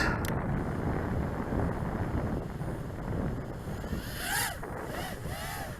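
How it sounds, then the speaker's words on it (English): Wind gusting across an outdoor field used for flying FPV racing drones, a broad steady rush of microphone buffeting with swells and a brief higher whistle near the end, no talk. "And the wind is already picking up."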